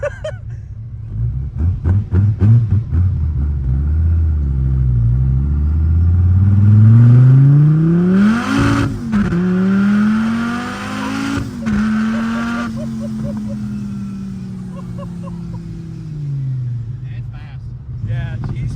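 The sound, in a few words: turbocharged car engine revving with blow-off valve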